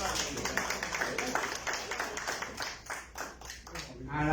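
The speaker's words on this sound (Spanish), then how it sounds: "recibimos con fuertes aplausos a la doctora" An audience at an international forum on conflict prevention claps to welcome a doctor. The separate, uneven hand claps are moderately loud and mixed with voices talking.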